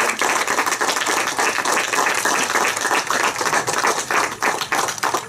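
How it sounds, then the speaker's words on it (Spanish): Wedding guests burst into a dense round of applause, many hands clapping steadily and close for several seconds with no talking over it. "Un fuerte aplauso."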